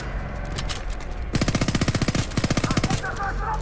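Rapid automatic gunfire from a hard-recoiling gun in the video game Homefront: The Revolution, two loud, close bursts of evenly spaced shots following a brief stretch of quieter game noise.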